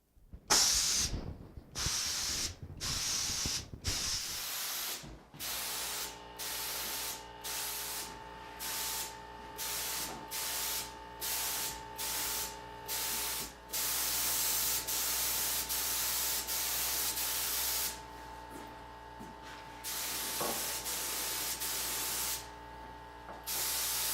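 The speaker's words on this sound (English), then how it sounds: "how to add the toner with the spray gun" A spray gun applying toner to French doors hisses in repeated bursts, short pulses at first, then longer steady sprays separated by brief pauses, loud and close.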